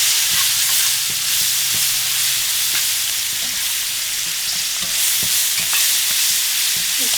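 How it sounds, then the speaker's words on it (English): Onions caramelizing in a hot pan for smothered pork chops, a loud, dense, steady sizzle close up with intermittent stirring clicks and scrapes, no voices. "I'm gonna get these onions going. Caramelized."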